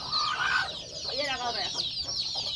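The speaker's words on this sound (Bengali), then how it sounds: "মুরগি থাকলে এরকম হইবে, ওরা কোনো ব্যাপার হইলো?" Chickens, including chicks, cluck nearby in short, uneven bursts of clucking calls over faint background noise.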